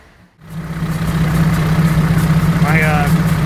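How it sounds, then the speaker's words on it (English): Honda B18C1 engine starting up and running with a noisy clutch, a loud steady low hum with pulsing rattle, and a short rising whine near the end, no talk over it. "My clutch in here is making an awkward noise."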